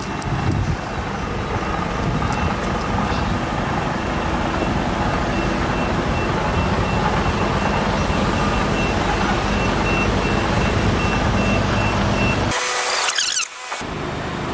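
A Russell's Motorsport lorry delivering a Porsche Cayman GT4 idles and manoeuvres with a continuous loud engine drone and reversing beeps, then cuts off abruptly near the end.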